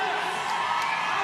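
A stadium crowd at a CrossFit event roars in a continuous, dense wash of cheering and shouting, loud and sustained throughout.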